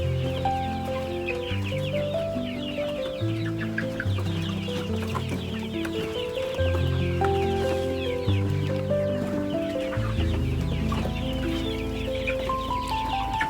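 A flock of chickens clucks continuously and fairly close, overlapping calls filling the whole stretch with no talking.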